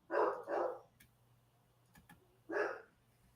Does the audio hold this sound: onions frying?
no